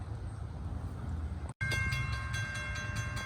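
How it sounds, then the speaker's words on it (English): A southbound CSX freight train approaches on a rail line near an abandoned railroad, a steady low rumble with a bright tonal whine building after a short dropout, heard from trackside at moderate distance. "we got a CSX train coming. Wow. It's a southbound."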